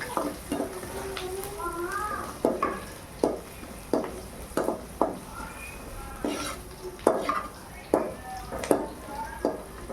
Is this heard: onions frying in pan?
yes